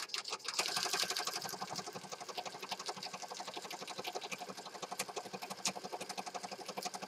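A sewing machine stitches through the paper pages of a peacock-themed journal, a quiet, steady, rapid mechanical chatter running evenly from start to finish.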